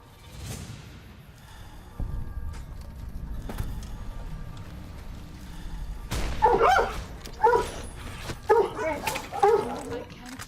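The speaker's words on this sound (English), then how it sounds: "Dogs are freaking out." Several dogs bark and yip in short bursts amid a chaotic scene, the barking getting louder and more frantic in the second half, with people talking and shouting over it.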